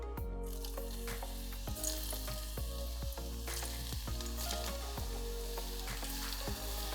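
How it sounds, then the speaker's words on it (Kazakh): Potatoes fry in hot oil, a loud, steady sizzle close by, punctuated by regular clicking pops and occasional stirring. "майға салып қуырамыз"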